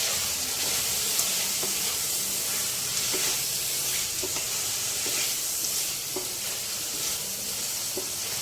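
Thin-sliced potatoes fry in a pan with a steady, close hiss and sizzle, broken by faint scraping stirs at intervals; no voices are heard.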